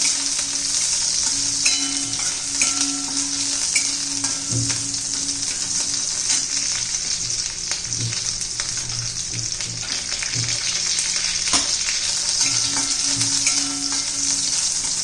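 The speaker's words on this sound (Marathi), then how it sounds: "बारीक कट केलेली हिरवी मिरची चांगली परतून द्यायची आपल्याला" Finely chopped green chillies sauté in melted ghee for sabudana khichdi, producing a continuous close sizzle with intermittent stirring scrapes and spoon clicks throughout.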